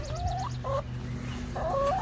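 Backyard chickens cluck in a coop, with repeated short clucks coming in two clear bursts over a steady low background hum.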